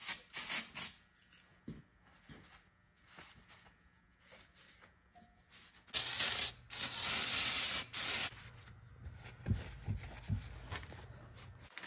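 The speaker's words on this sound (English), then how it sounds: "I'm going to spray it down with a little bit of brake clean" Two hissing aerosol sprays of brake cleaner onto the cylinder head of a Massey 35 tractor's Continental Z engine, one brief near the start and a longer sustained burst later, with soft handling clicks and rubbing between them.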